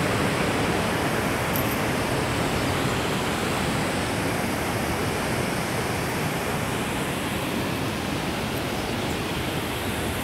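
Cachoeira da Chave, a waterfall in Votorantim, roars in a dense, steady rush of falling water, loud and constant throughout with no voices.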